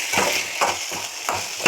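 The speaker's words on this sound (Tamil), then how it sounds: "நான் அப்படியே திரும்பி வச்ச தேங்காயை அப்படியே போட்டு ஒரு கிளறி விட்டுலாம்" Grated coconut being stirred into a frying pan, with rhythmic scraping strokes of a spoon about every third of a second over a soft sizzle, close and clear.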